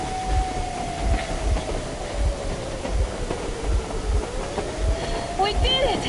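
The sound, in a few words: train rolling along rails in the video game Metro Exodus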